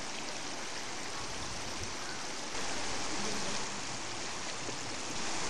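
Water flows and splashes continuously in a forest river, a broad, steady rush heard close, with no talk over it.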